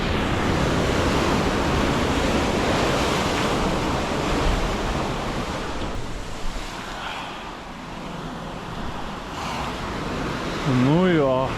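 Steady roar of sea waves breaking and surf rushing, loud and close, with wind buffeting the microphone throughout.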